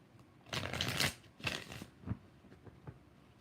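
A deck of tarot cards is shuffled in a few quick riffling bursts, crisp and close, with no talk over it.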